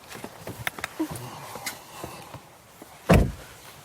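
BMW i8 Roadster (2019) door pulled down and shut: light clicks and rustles, then a single solid thud near the end.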